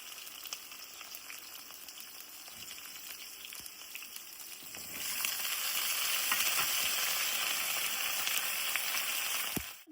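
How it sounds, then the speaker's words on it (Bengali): Garlic, dried chilli and ridge gourd fry in mustard oil with a steady close sizzle that grows louder and fuller about halfway through, with faint stirring clicks and no voices. "রসুন আর শুকনো লঙ্কাটা তেলের মধ্যে দিয়ে দিলাম, ঝিঙেটাও দিয়ে দিলাম।"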